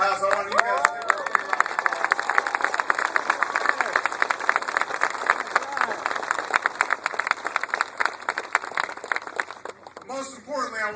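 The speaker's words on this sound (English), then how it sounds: "I want you guys to give her a big round of applause." An audience of soldiers and families at Fort Stewart applauds for Holly Petraeus, with dense, sustained clapping and scattered cheers that swell and then fade toward the end.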